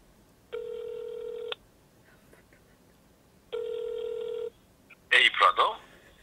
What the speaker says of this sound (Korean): 오늘은 커트에게 전화를 해보도록 하겠습니다